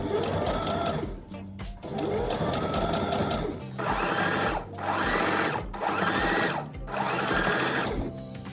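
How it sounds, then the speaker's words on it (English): A sewing machine runs top stitching through fabric in four loud, steady bursts separated by short pauses, close up with no talking. "So this is top stitching."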